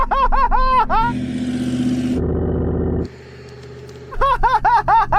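A Suzuki Jimny and a Hummer H2 accelerating hard off-road, engines roaring and revving under strain for several seconds between bursts of squealing, chirping noise at the start and end.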